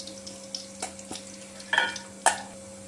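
Mustard seeds sizzle in hot sesame oil in a pan, giving a quiet hiss broken by a few sharp crackles and pops close by.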